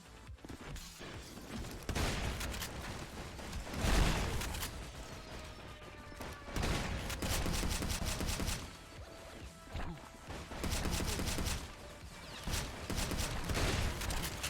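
Video game gunfire: loud, rapid bursts of shots come in repeated waves over a noisy, cluttered background, with short pauses between the volleys.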